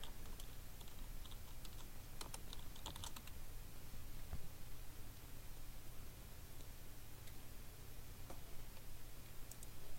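Faint, quiet keystrokes on a computer keyboard, a few scattered clicks in small clusters over a steady low hiss, no voices.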